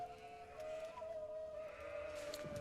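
Sheep bleating in the real-time strategy game Age of Empires IV, a few thin, moderately loud bleats layered over steady game ambience and a sustained tonal hum.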